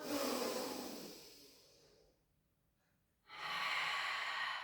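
Slow, steady breathing during a pilates rehab exercise: a long, close, airy inhale, a brief quiet pause, then a strong audible exhale, with no talking.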